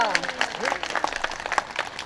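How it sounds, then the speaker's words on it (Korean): Prayer-meeting congregation in a church applauds in thanks, a brief burst of dense clapping from many hands with voices mixed in. "하나님 앞에 먼저 감사의 박수 올려드리겠습니다"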